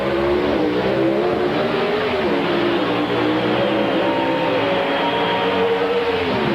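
Pro Stock drag cars at the 1996 NHRA Winston Invitational eliminations roar down the strip, a loud continuous engine drone with rising and falling pitch sustained throughout.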